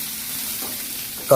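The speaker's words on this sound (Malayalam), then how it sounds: "സവാള ഒന്ന് നന്നായി മിക്സ് ചെയ്തെടുക്കാം" Sliced onions fry in a pan, a steady close sizzle with light stirring scrapes, ending in a short, louder clank of the spoon against the pan.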